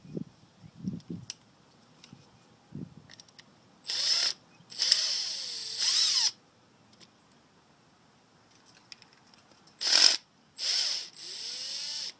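A power screwdriver whirs in several short bursts, backing Phillips screws out of a Yamaha 4x4 servo assembly, close and loud, with light ticks and clicks of handling between runs.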